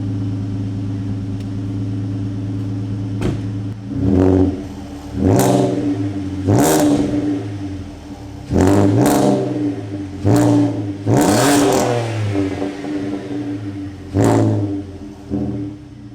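Loud, raw VR6 Audi A3 engine with the muffler deleted idling with a rumble, punctuated by roughly eight sharp revs that rise and fall, some in quick pairs.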